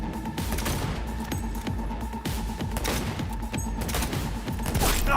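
Sustained rapid gunfire in the Cyberpunk 2077 video game, dense overlapping shots in continuous bursts, loud and steady across the whole stretch without speech.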